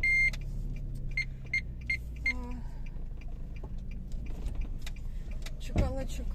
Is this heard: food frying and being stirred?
no